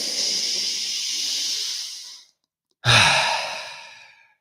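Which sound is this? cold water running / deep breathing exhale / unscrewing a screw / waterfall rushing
deep breathing exhale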